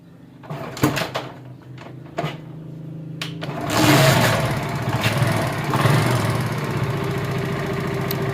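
A Pulsar motorcycle engine cranks with a few clicks and short bursts, then catches and settles into a steady, close running idle that continues to the end.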